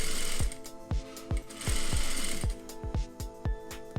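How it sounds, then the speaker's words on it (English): A sewing machine stitches bias binding onto a quarter-inch seam, its needle thumping in quick regular beats with brief pauses and mechanical whirring between runs, close and clear with no talking. "I'm going to sew all the way down,"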